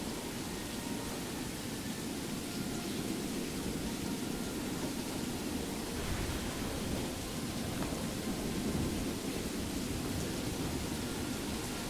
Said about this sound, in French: ça fait du bien quand le bruit de la pluie s'arrête